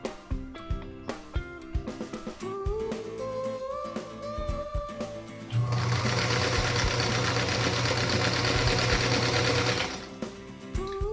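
A sewing machine stitches quilt squares together, a steady whirring drone running for several seconds, then slowing and stopping, with lighter mechanical clicks before the run.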